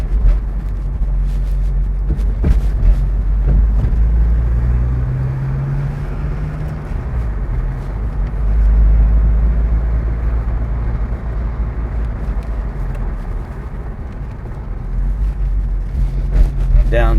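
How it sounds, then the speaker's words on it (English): A 1986 Porsche 944 Turbo cruising on a highway, its steady engine drone and low road rumble heard from inside the car, with a gear change and some wind noise, no talk. "we're going to see how this car drives, runs, shifts, upshifts, downshifts, brakes, turns"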